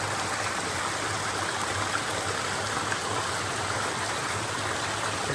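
A brook runs through a culvert tunnel beneath a former rail bridge, a steady, close rushing of water that echoes slightly and holds constant throughout with no voices.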